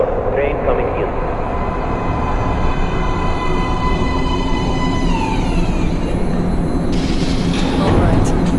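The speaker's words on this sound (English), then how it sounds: "Please step away from the edge of the platform. Train coming in." A metro train pulling into an underground platform in Metro Last Light, a loud steady roar of wheels and rails with rising and falling metallic squeals as it slows, close and continuous.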